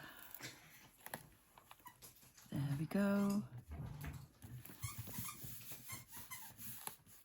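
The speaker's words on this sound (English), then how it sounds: "The sound behind me are my dogs playing." Dogs play indoors in the background, giving faint scuffles and a brief burst of high, squeaky whimpering near the middle, while someone talks softly close by.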